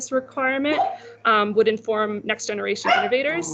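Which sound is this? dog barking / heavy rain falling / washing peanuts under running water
dog barking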